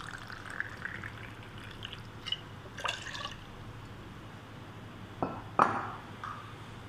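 About 100 ml of water is poured into a drink glass already holding jasmine green tea, with a few short splashy pours and drips heard over quiet background.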